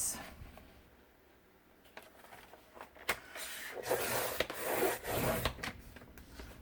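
Scissors or a paper cutter slice through paper into strips at a desk, giving scattered rasping cuts and rustles that are close and moderately loud, with a denser burst of cutting midway.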